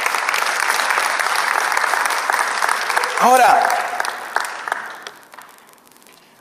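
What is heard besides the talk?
congregation applauding in church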